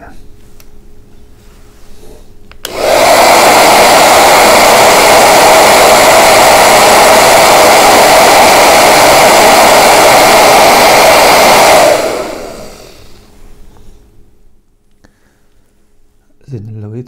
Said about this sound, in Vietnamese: bây giờ tốt nhất á là mình nên sấy bằng cái máy sấy tóc á, cho nó khô cái chữ